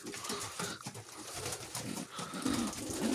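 Ornamental pigeons coo in a loft in Bulgaria, soft repeated throaty calls overlapping at close range against a busy background of flock noise.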